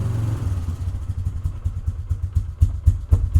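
Vehicle engine idling roughly after a cold start, loud and close, with uneven pulsing firing beats and clattery knocks that grow stronger toward the end, no talking.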